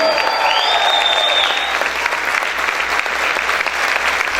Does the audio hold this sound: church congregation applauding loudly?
yes